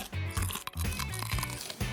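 Insect ice cream with crickets, mealworms, buffalo worms and grasshoppers gets crunched in a short burst of close, crisp chewing, with several brittle bites in quick succession.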